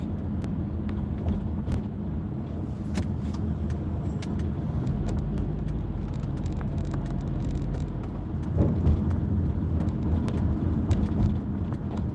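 Steady low rumble of a car being driven, heard from inside the cabin, with continuous road and engine noise that swells slightly near the end and no talking.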